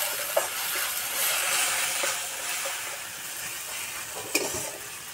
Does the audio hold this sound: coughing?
no